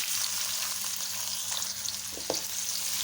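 Chopped onion sizzles and crackles steadily in hot oil with cumin seeds and dried red chillies, with a brief scrape of stirring near the end.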